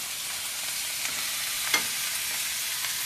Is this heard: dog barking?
no